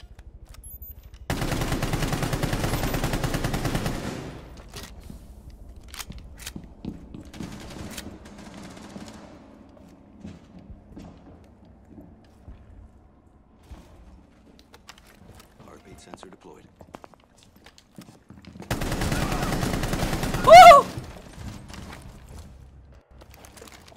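Gunfire in the tactical shooter Rainbow Six Siege, two loud bursts of rapid automatic fire a few seconds long, one near the start and one near the end, separated by quieter in-game movement and ambience.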